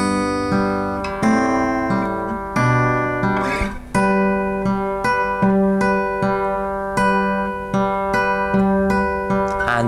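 Acoustic guitar plays a fingerpicking pattern slowly, with steady plucked notes and chord changes ringing close and clear, no voices.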